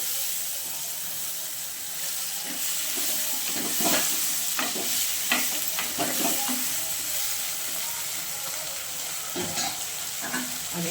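Tomatoes sizzle steadily in a hot pan over softened onions for a sardine dried-fish curry, with a spatula scraping and stirring in irregular bursts throughout.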